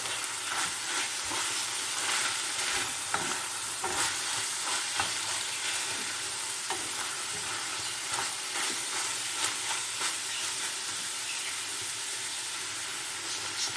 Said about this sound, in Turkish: Biraz da bu şekilde kavuracağım kıymamı soğanla.